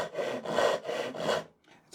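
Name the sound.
Razorsaw 240mm ryoba Japanese pull saw rip cutting wood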